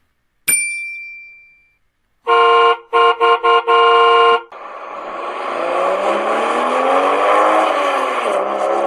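A bright ding rings out, followed by several short toy-like car horn honks in quick succession, then a rising engine rev as the car accelerates, all loud and alone without talk.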